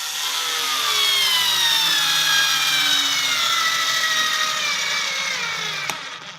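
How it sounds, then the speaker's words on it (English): A TopShak 4V cordless screwdriver driving a small screw: a steady, loud, close whine of the motor that holds for about six seconds, then stops with a brief click, and no one talks. "putting in one of the small screws"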